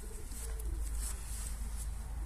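Racing pigeons in a loft cooing, soft low throaty coos repeating close by over a constant rumbling background hum and faint rustling.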